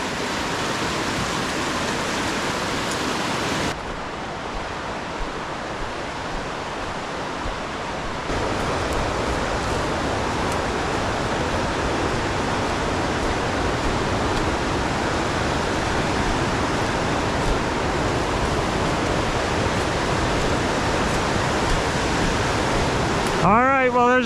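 Rushing creek water pours in a steady, loud broadband roar close to the microphone, continuous throughout with no clear talking over it.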